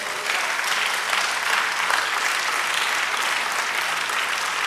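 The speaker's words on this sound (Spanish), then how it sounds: "Dele aplauso al Señor" A church congregation at a jubilee service in Poughkeepsie, New York claps together in a sustained, dense burst of applause, steady and close throughout with no speech.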